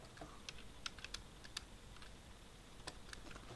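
Light, scattered keystrokes on a computer keyboard while typing a command during Minecraft play, soft irregular clicks heard close and alone.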